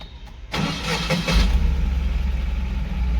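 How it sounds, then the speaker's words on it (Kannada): A petrol Tata Ace Gold CX mini truck, a 2023 model, cranks briefly and fires up, then settles into a steady, close idle with a low engine rumble. "ಗಾಡಿ ಸ್ಟಾರ್ಟ್ ಮಾಡ್ತೀನಿ ನೋಡಿ."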